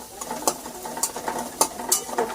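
Meat stirred and fried in a pan, with a steady sizzle broken by repeated scraping stir strokes, close and moderately loud, with no talking.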